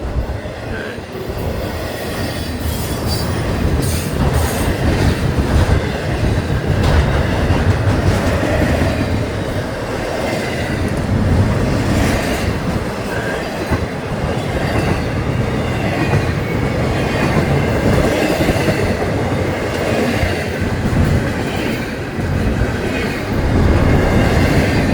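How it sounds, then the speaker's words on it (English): A Florida East Coast Railway train rumbles close by, picking up speed, with rattling, clacking wheels and occasional squeals, the roar steady and loud throughout as it rolls past. "All right, here goes the train."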